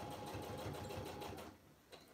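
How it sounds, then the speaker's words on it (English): A sewing machine stitches right along the edge of fabric for a binder cover, running in a quick, even, rapid patter up close for about one and a half seconds before slowing to a stop. "I'm sewing right at the edge of my fabric."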